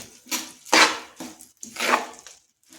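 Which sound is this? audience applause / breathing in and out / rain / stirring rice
stirring rice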